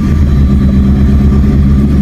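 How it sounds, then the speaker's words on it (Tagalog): A 1990s Mitsubishi Lancer with an EFI engine runs steadily at close range, a loud, low, continuous rumble with no talk over it. "ganyan ang matinong makina ng Mitsubishi Lancer na 90s model"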